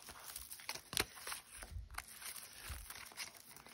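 A paper belly band comes off a vintage Christmas junk journal with quiet crinkling and a few sharp papery snaps and rustles, close and soft, with no talking.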